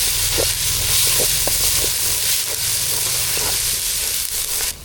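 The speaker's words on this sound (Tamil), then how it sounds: "தக்காளி வெங்காயம் எல்லாம் நல்லா வதங்கிட்டு அது கூட வந்து பெருங்காயத்தூள் மஞ்சத்தூள் மிளகாத்தூள் எல்லாம் சேர்த்துக்கலாம்" Tomatoes and onions cooking down with asafoetida, turmeric and chilli powder in a pan give a steady, loud broadband hiss with a low rumble underneath, joined by a few soft clicks and taps.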